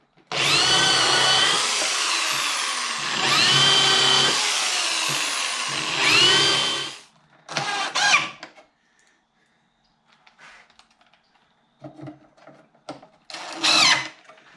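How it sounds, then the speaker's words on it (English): A power drill pre-drilling holes in cedar whirs loudly in three long bursts, followed by a couple of shorter runs and scattered quiet handling noises. "Pre-drill a few."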